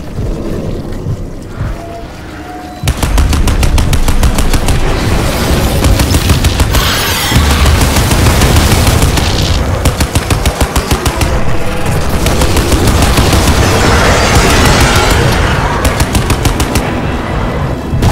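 Machine gun fire in the video game Crysis 2: after a short quieter lead-in, loud, rapid, sustained bursts of automatic fire hammer on with heavy booming underneath, and no talking.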